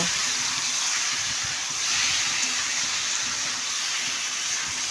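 Potato, papaya and vegetable curry sizzling and steaming in a pan, with a steady broad hiss that holds at a fairly even level throughout.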